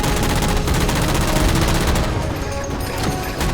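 Dense, loud sustained gunfire from Halo 4 as jammers are shot down, a continuous rapid barrage of shots with crashing impacts filling the whole stretch, no voices.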